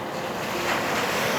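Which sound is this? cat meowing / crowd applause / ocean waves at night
ocean waves at night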